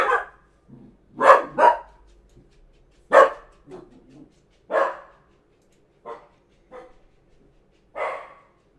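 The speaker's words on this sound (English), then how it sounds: "The dog hears something." A dog barks in sharp, separate bursts, several single and paired barks spread across a quiet background, fairly close and loud, with no talking.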